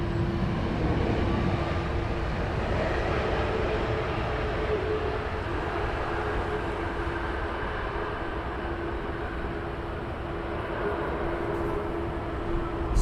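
An Air Malta airliner lands on runway 27R at Heathrow Airport, a steady, broad, loud roar of jet engines and rushing air that stays constant, with no voices.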